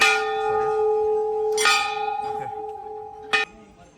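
Temple bells ring at Badrinath temple in the Himalayas, with a river running beside it. Two or three close, bright metallic strikes each leave a long, sustained hum hanging in the air.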